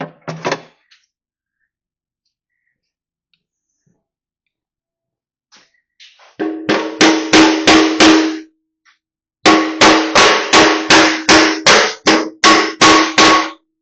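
A hammer drives a bushing into a trailer ramp: one strike at the start, then two loud close bursts of eight to ten sharp, evenly paced blows separated by a short pause.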